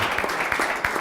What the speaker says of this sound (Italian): Potete anche applaudire, ragazzi